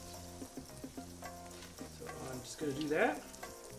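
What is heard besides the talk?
butter melting and sizzling in a pan over medium heat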